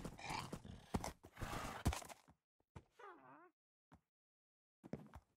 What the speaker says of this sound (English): let's go ahead and grab our horse